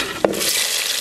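Chopped onion drops into hot oil with mustard seeds, urad dal and chana dal for upma, giving one soft thud and then a loud, steady close sizzle with stirring.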